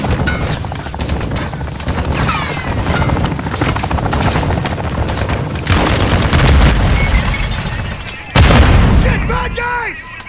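Enemy attack helicopter in Warzone, with loud rotor thumping drawing closer amid heavy explosions and gunfire, and a sharp blast near the end.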